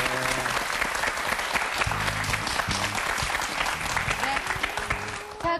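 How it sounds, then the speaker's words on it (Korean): A studio audience at a KBS Korean television show about married couples claps loudly and steadily for several seconds, and the applause thins out at the end. "두 분이 함께할 행복한 내일을 위해서 큰 박수 좀 부탁드리겠습니다."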